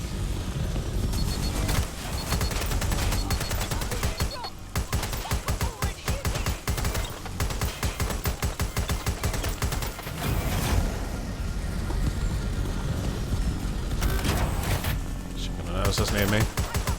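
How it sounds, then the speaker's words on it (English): Dense, sustained bursts of automatic gunfire from enemies in the video game Watch Dogs Legion, loud and near, rattling almost without pause with brief gaps around the middle. "they're shooting back"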